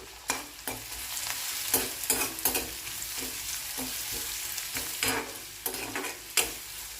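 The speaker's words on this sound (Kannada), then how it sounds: "2 ಸ್ಪೂನ್ ತುಪ್ಪ ಹಾಕಿ ಅದಕ್ಕೆ 1 ಸ್ಪೂನು ಕರಿಮೆಣಸು ಪೆಪ್ಪರ್ ಮತ್ತು ಒಂದು 7 ಎಸಲು ಬೆಳ್ಳುಳ್ಳಿ" Black pepper and garlic fry in ghee for a Kadaknath chicken dish, a soft continuous sizzle punctuated by repeated sharp spoon scrapes and knocks against the pan, close up with no speech.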